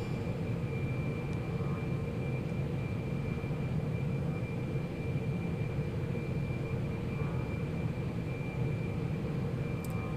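A simulated jet aircraft engine in the flight game Lock On, throttled back on approach, heard as a steady loud roar with a constant whine, unbroken and without talk.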